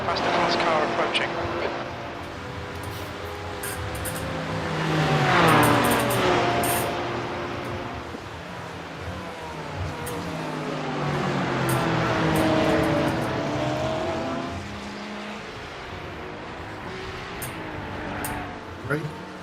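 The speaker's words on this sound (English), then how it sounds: "It's a faster class car approaching." A faster-class race car closes in during a Nürburgring 24-hour endurance race in a racing game, its engine note swelling and falling in pitch under steady, close engine drone while someone talks over it.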